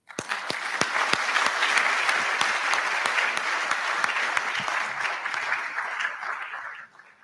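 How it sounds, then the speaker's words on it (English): An audience claps at an induction ceremony for newly qualified medical and dental practitioners. The sustained crowd applause lasts about seven seconds with sharp scattered claps on top, then fades out at the end. "you deserve applause"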